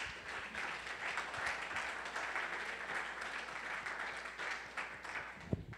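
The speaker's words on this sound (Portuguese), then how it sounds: "Quem pode aplaudi-lo?" A church congregation at a Sunday service applauds God, continuous clapping from many people in a large hall, moderately distant and steady, ending with a brief thump.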